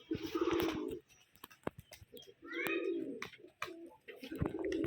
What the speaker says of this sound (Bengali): এটা আমার বহুত পুরাতন কবুতর বাসা।